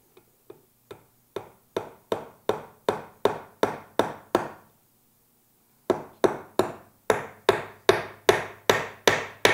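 A hammer drives nails into a wooden birdhouse with sharp, evenly spaced blows, a steady run of strikes, a brief pause, then another quicker series, close and clear.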